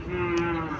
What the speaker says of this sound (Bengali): এখানে একটা গাভী দেখা যাচ্ছে, দেশি গাভী।